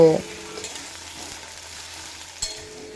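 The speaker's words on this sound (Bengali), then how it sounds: "এই আলুগুলো লো টু মিডিয়াম ফ্লেমে তিন মিনিট মতো ভেজে নেব" Medium-sized potato strips, cut lengthwise and washed, fry in a pan over a low to medium flame, giving a soft, steady sizzle with an occasional faint clink near the start and a small bump later.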